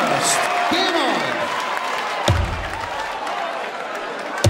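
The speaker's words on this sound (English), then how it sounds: "The biggest cheer of the week." A darts crowd at a quarter-final match roars and claps after a 135 checkout, loud cheering swelling over arena noise with a sharp thump partway through and a commentator's voice underneath.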